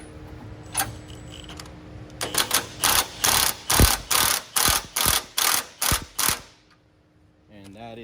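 A ratchet wrench turning 13mm and 19mm sockets while fitting a washer reservoir skid on a fifth-generation Toyota 4Runner, giving a close, loud run of about a dozen rhythmic clicking bursts, then quiet.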